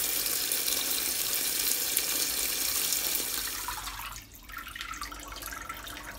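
Wild blackberries are rinsed at a kitchen sink, with a steady rush of running tap water and splashing that thins out near the end into lighter trickling.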